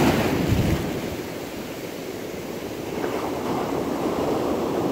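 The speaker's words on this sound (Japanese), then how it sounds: "今日は波が高いんで" Ocean waves break continuously on a surf beach on the Boso Peninsula during a high-wave day, a loud steady wash of surf with wind buffeting the microphone and a heavier surge near the start.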